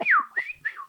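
A person whistling in imitation of birdsong, three quick sliding whistled phrases, close and clear with no other sound.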